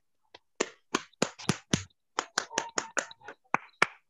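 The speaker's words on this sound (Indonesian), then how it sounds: "Kita berikan aplaus kepada kelompok 2 atau anak Lian yang sudah mempresentasikan" Students in an online class clap for group 2 after their presentation, a scattered series of about fourteen sharp, separate hand claps rather than a continuous round of applause.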